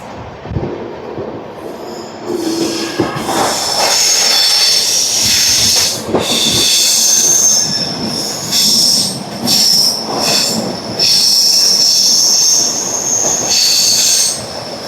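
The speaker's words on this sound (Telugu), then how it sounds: "లింగంపల్లి వరకు వెళ్ళే MMTS ఇది." MMTS suburban train bound for Lingampalli passing close by, its wheels squealing loudly in long shrill, wavering bursts over rumbling carriages and some clatter, with no voices.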